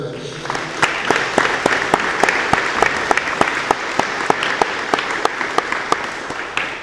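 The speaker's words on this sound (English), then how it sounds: "a round of applause for my parents" An audience applauds a speaker's parents at an elementary school veterans memorial dedication ceremony, a sustained crowd clapping with sharp individual claps standing out near the mic over the steady wash of hands.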